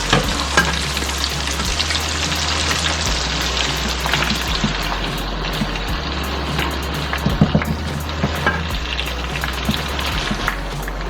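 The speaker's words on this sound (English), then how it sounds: "Don't put too much because you don't want it to boil, you want it to fry" Sesame seed chicken pieces fry in hot oil with a loud, crackling, rain-like sizzle, accompanied by a low pulsing hum and a few clicks of utensils.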